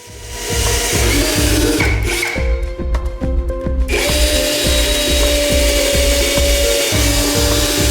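A power tool cutting and trimming wood, a loud continuous grinding whine with a rhythmic low pulsing, dipping briefly partway through before resuming, no voices.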